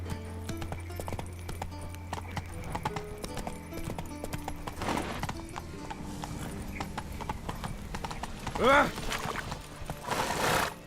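The horse Roach in The Witcher 3 trots with steady rhythmic hoofbeats that fill the scene, and a short neigh rises near the end over faint background music.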